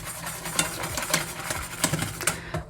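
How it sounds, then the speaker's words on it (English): Whisk stirring a vegan banana pudding mixture in a pot over low heat, a steady close scraping and swishing with small irregular clinks and a faint sizzle underneath. "whisk it all together."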